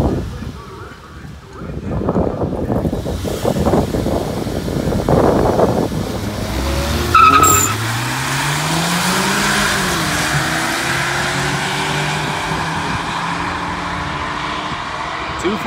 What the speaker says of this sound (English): Shane's about to run Christian's car in the GTI